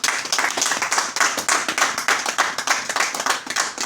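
A church congregation clapping together in a quick, steady rhythm, many hands striking at once in close, even beats throughout.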